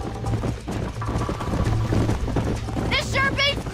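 Galloping horse hooves in Red Dead Redemption 2 on a cattle ranch, a steady rapid clopping beneath talk, with a horse whinny near the end.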